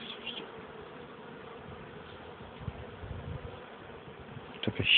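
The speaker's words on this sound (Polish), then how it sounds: "Mucha." A fly buzzes faintly and steadily near people extracting honey, a soft continuous drone over a quiet room, with some low thumps and handling noise near the end.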